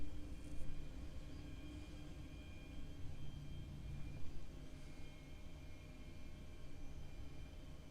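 A Boeing 737 engine spools up in a flight simulator game, a steady, continuous low drone and rumble that stays fairly even throughout.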